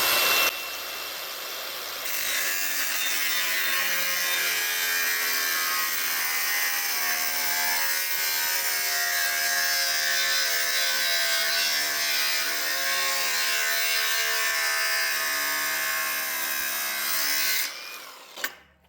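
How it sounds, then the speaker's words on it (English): A well-used cutoff wheel slices through material with a loud, steady high-pitched whine that holds for about fifteen seconds after a brief lower start, then winds down and ends with a short clunk. "Let the cutoff wheel do its job."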